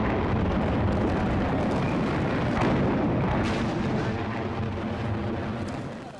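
Dense, continuous rumble of fireworks bursting in a Chinese pyrotechnic display, booms overlapping into a steady loud roar for about six seconds with scattered sharper cracks, easing slightly at the end.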